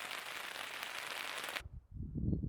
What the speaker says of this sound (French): Bon, ce soir c'est ambiance toile de tente avec au menu pluie.